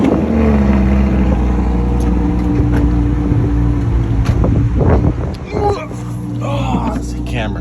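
Lamborghini Aperta firing up, a deep, loud engine rumble and rev close to the microphone, with people talking over it and wind buffeting the mic.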